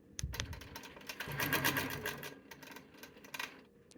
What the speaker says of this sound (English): when I get to the edge, I just sew off the end towards me